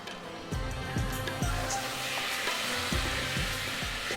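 Chopped tomatoes sizzle steadily in a hot pan with chilli and cumin powder, while a spoon scrapes and stirs, giving several distinct knocks against the pan over continuous frying hiss.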